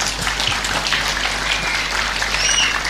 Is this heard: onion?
no